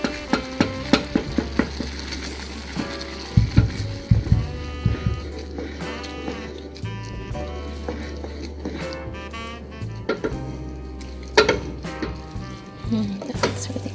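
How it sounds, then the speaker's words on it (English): Curry powder being stirred into simmering cream-free mushroom soup: repeated scraping and clinking spoon strokes over a steady low hum, with some tonal squeaks mixed in. "So there's the curry powder. Mix thoroughly."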